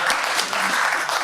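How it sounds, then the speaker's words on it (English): An audience applauds after a talk, a dense wash of many hands clapping at steady loudness, close and filling the space, with no voices over it. "Let's give a round of applause once again."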